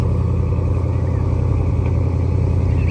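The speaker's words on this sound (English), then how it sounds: "Got some cars leaving." Steady low engine rumble from cars pulling out of a classic car show, continuous and fairly close, with no distinct revs standing out.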